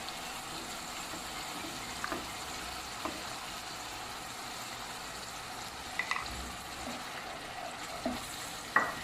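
A paste of red chili, turmeric, salt and yogurt fries in a pan with a constant soft hiss of sizzling, with occasional light clicks and scrapes from stirring and no talk.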